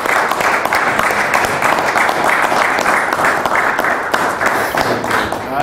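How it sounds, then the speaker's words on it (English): Applause from a symposium audience at the close of a conversation with a novelist and memoirist, a steady dense clapping that holds evenly at close range with no talk over it. "Let's have a round of applause to thank"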